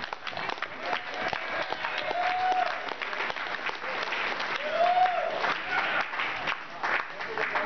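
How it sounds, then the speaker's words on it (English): Applause breaks out at a dinner awards event for a woman named Carol, steady clapping from the room with some voices and cheers mixed in, fairly distant and moderate in level. "let's give a big round of applause for Carol"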